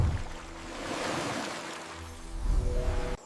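A river's water parting as a dramatic sound effect, a broad surging whoosh of rushing water that swells, eases, then builds again into a deep heavy roar before cutting off abruptly.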